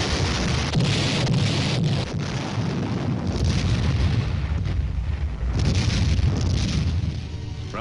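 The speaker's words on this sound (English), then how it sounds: "a forward observer is directing a continual barrage to soften up the enemy's resistance" Continuous artillery barrage from a late-1950s US Army exercise: a dense, loud rumble of explosions with repeated booms and a few sharper blasts, rolling on without pause.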